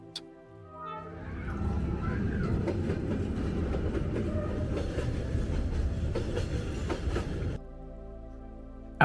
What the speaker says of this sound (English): When the train rushes through, the ground shakes.